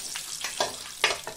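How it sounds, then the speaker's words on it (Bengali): Pieces of katla fish frying in oil, a steady close sizzle with a few sharper bursts of crackle and spatter, no talking. "তো দেখো ধীরে ধীরে সমস্ত মাছের পিসগুলো কিন্তু ভাজা হয়ে গেল।"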